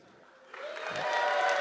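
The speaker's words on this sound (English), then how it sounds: "Sympathy clap." A live show audience gives a brief sympathy round of clapping for a contestant, the applause swelling from sparse claps into a fuller, steady patter over under two seconds.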